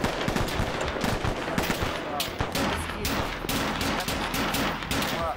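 Rapid bursts of gunfire in the military video game ArmA 3, loud and dense, firing repeatedly across the whole span with faint background voices.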